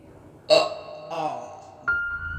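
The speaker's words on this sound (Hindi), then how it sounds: "चुड़ैल बहुत सारा खाना खाकर एक लंबी सी डकार लेते हुए कहती है" A cartoon witch lets out a long, drawn-out burp after a big meal, rising in two swelling pulses and ending on a sustained tonal note, with no talk over it.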